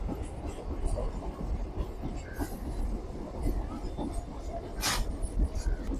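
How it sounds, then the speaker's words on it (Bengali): A passenger train bound for Lalgola from Kolkata rolls into platform 1 at Berhampore Court station, a steady rumble of wheels and cars close by, with brief higher squeals and station noise over it. "আপ ট্রেন কলকাতা থেকে লালগোলা যাওয়ার গাড়ি 1 নম্বর প্ল্যাটফর্মে ঢুকছে"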